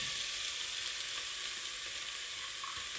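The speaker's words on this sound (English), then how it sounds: "Now let's put in the onions really." Onions frying in a pan for a homemade mushroom risotto, giving a steady, dense sizzle that holds evenly from start to finish, close and fairly loud, with no voices over it.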